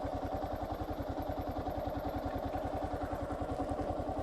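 A big motorcycle engine idles close by with a steady, even throbbing pulse and a little mechanical clatter.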